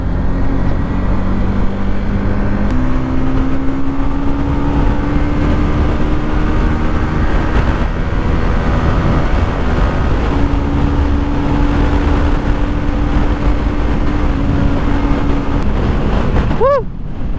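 A Honda CBR150R motorcycle on the road under engine braking, its engine droning loudly with pitch shifts and steady wind rush throughout, ending with a brief rising rev.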